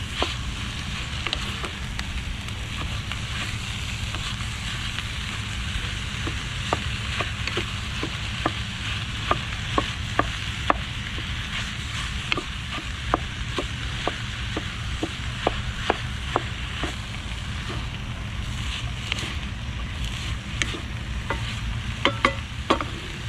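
Enchilada casserole ingredients browning in a pan at a camp stove, giving a steady hissing sizzle with frequent sharp pops and ticks from stirring, continuous and close throughout with no talk.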